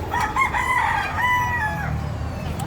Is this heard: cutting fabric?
no